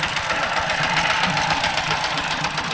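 A tractor engine runs in a rural Thai village with a close, steady, knocking idle chug. It is loud and unbroken, with no voices.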